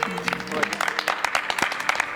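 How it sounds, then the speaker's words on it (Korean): Citizens cheering and clapping for Robespierre, with crowd applause and scattered shouts breaking out under nearby voices. "로베스 피에르를 보며 환호하는 시민들"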